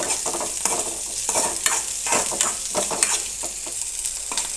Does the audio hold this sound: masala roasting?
yes